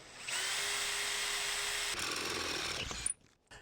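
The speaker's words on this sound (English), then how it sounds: "Now we're going to take a 3/8 drill bit and drill through the bow as straight as" A power drill fitted with a 3/8 drill bit bores through a metal high tunnel bow, a steady high whine for about three seconds before the motor cuts off abruptly.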